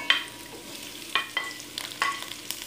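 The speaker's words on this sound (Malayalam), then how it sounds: "ഇനി നമുക്കിതിലേക്ക് സവാള ചേർത്ത് കൊടുക്കാം." Sliced onion being stirred in hot oil with garlic, ginger and green chillies in a pan for Kerala-style crab roast, with a few brief sharp scraping stirs over a faint steady sizzle, close and fairly quiet.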